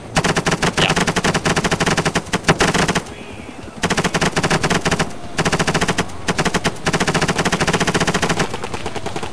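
Automatic gunfire in the military video game Arma 3 rattles out in long, loud machine-gun bursts with a couple of brief pauses, dense and close throughout.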